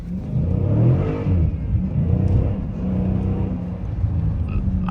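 A 2022 Dodge Challenger Widebody Scat Pack engine rumbles and revs up nearby, a steady low roar that swells and holds for several seconds with no talking.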